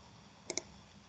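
A double mouse click on a save button at a computer, two quick close clicks alone over faint room hiss.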